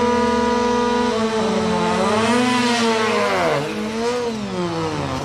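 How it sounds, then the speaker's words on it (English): Nissan 180SX with a CA18 engine on drag slicks at a Sendai drag race, a loud, close engine whine climbing and dipping through revs in a sustained, steady tone. "This 180SX was a surprise, using the smaller CA18 engine rather than the later SR20."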